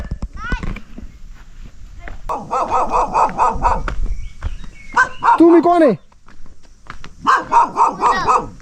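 A dog barks loudly in repeated bursts near by, with people talking in between and over the barking.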